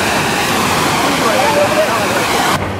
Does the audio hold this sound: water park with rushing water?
yes